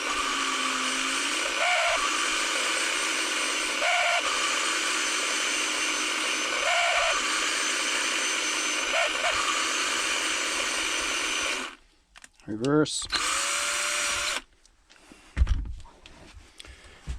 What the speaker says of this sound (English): that drill sounds like it is just about dead